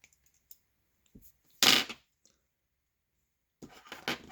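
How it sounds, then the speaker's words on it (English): Scissors snip through the cords on a game controller's triggers, giving a few sharp, close cuts separated by short pauses, with faint handling clicks in between. "So you can actually snip these cords off with scissors or other stuff. We'll just snip these off."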